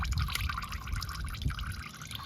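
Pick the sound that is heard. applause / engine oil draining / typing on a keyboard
engine oil draining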